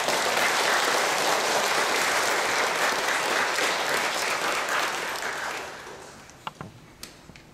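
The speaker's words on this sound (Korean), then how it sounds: "박수로 환영해 주시기 바랍니다." A church congregation applauds to welcome a guest lecturer at a mission talk: loud, dense clapping that swells and holds, then fades out around five seconds, leaving a few scattered claps and light knocks.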